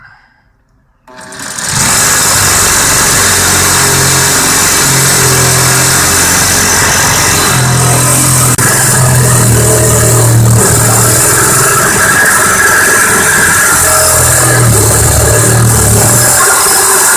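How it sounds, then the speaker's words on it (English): Makita BJR182 18V reciprocating saw fitted with a Diablo metal blade cutting through metal pipe, starting after a second of quiet into a loud, continuous buzzing rasp with pulsing pitch variations, close by and without talk. "Maybe even just cut off the pipe just to see what it could do on a metal pipe."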